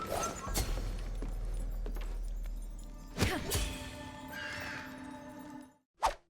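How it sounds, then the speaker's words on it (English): Crows caw in the video game Wuchang Fallen Feathers, a few short harsh calls over a quiet ambient game backdrop with thumps and a sharp burst near the end. "So anytime you hear these birds, make sure you find it and kill it"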